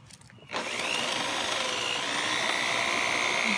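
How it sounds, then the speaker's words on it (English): A power drill bores holes through wooden pieces for an adjustable art easel, starting after a brief pause and running as a steady, close, loud whine with grinding friction throughout. "And drill holes through the side of the smaller piece and the bigger one?"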